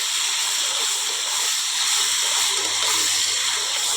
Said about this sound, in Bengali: কাজু কিশমিশগুলো আগে ভেজে নেব